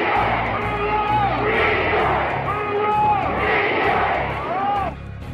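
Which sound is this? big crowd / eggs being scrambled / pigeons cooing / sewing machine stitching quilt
big crowd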